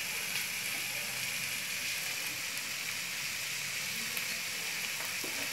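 Carrots, capsicum, cabbage and frozen peas fry together in a pan for Chinese fried rice, giving a steady, even sizzle at moderate level that runs unbroken throughout with no talk.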